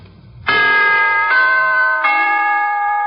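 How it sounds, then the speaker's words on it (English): Three sustained, bell-like chime tones from NBC's broadcast signature, each note struck in turn and ringing on over the last, clear and close with no talk. "here is a holiday wish from the NBC Chimes."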